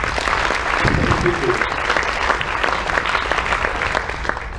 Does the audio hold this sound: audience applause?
yes